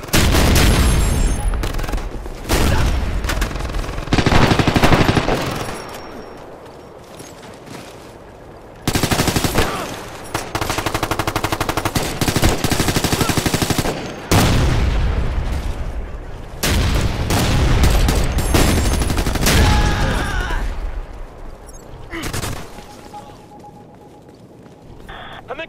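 Rapid gunfire bursts and booming blasts, including a frag grenade, from the video game Ghost Recon Future Soldier, loud and dense throughout with brief lulls, and voices calling out between the shots.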